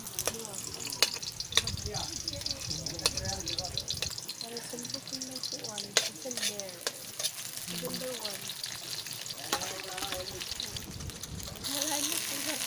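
Garlic and onion sauté in oil in an outdoor farm cooking setup, a bright steady sizzle with repeated clacks of stirring and a louder burst of frying near the end, while someone talks quietly over it.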